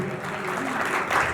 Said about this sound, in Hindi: जोरदार ताली देकर प्रेज़